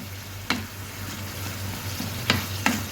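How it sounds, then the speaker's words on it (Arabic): A spice mixture of cumin, spices and garlic being stirred in a frying pan, with low steady sizzling and a few sharp scrapes of the utensil against the pan. "هنبتدي نحط الخلطة، هنبتدي نقلب بس تقليبة جميلة كده"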